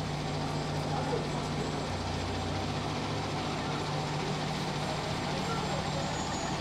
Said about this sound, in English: Yeah, there's no way this fire truck is getting through.